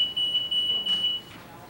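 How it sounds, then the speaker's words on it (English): A 3M library security gate alarm sounds a loud, steady high electronic beep, repeating in quick pulses with short gaps, close and clear with no voices. "A properly functioning system will sound the alarm."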